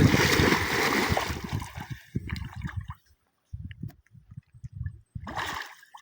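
Water splashing and pouring during outdoor washing and bathing, loud and close at first, then broken into bursts of splashes and gurgles with short pauses between them.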